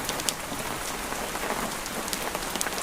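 Steady rain falls outside a cottage, a dense, even patter of drops on surfaces with scattered louder splashes, continuous and close throughout with no voices.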